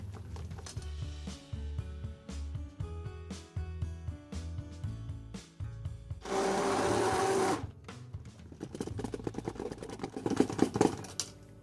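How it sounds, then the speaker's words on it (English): A stick blender whirs in short bursts while mixing chamomile lotion, then runs steadily for a couple of seconds before another loud stretch of motor noise, with no talking. "hit it with the stick blender"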